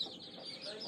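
Chickens cluck beside their coop in a short burst of soft, repeated clucks at moderate distance, with no other prominent sound.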